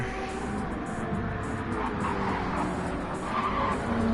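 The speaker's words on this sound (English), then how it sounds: "Louis' tire is dead. You see him sliding all over now." A race car sliding around on a dead tire, its engine droning steadily while tire squeal and skidding rise and fall across a few seconds of continuous driving.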